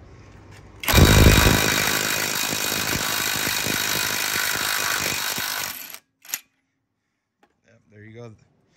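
Hercules cordless impact wrench running in reverse, a loud close buzzing hammer-rattle lasting about five seconds, then a short burst, silence and a brief voice.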